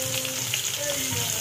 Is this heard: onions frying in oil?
yes